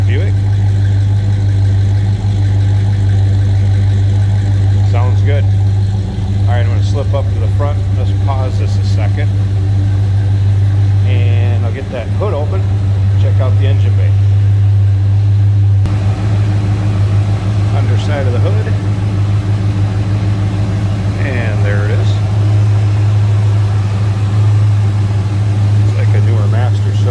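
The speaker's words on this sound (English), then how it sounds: "A little rumble coming out of that Buick." A 1969 Buick Wildcat idles with a steady, low rumble throughout, while people talk intermittently over the engine.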